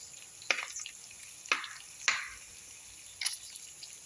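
Garlic sizzles in a pan with frying beef steak, a soft steady hiss broken by several sharp scraping clatters as it is stirred, with no talking.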